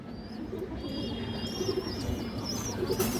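Army-breed female pigeons coo in a steady, low murmuring chorus close by, with faint higher chirps over a continuous background hum.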